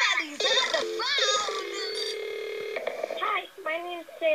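Telephone dialing tones from a call coming in, a quick series of beeping keypad tones followed by a sustained tone, with a voice speaking near the end.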